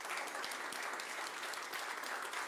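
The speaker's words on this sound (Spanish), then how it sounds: "démosle un aplauso al Señor." A church congregation applauds in praise, a steady wash of many hands clapping at moderate distance with no voices on top, filling the whole short stretch.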